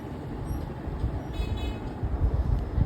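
A low rumble of two trains rolling past one after another at a railway crossing, with a faint high tone partway through, steady and without voices.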